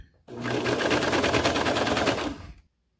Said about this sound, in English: I'm almost all the way around, so I'm going to clip this initial serger tail right off.